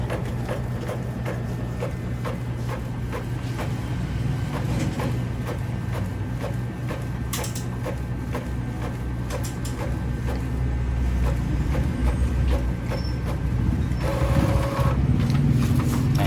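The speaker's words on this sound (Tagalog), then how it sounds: "Ayan, na-print test na natin." An Epson L5190 inkjet printer runs a test page on bond paper, giving a steady mechanical whir with rhythmic carriage clicks and a few sharper knocks near the end, heard alone and close.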